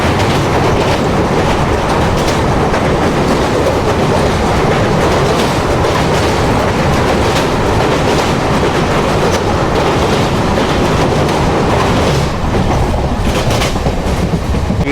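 Passenger train on the Secunderabad to Vijayawada line, just pulled out of Vishnupuram junction and running along the tracks, a continuous loud roar with steady clickety-clack from onboard, nobody speaking.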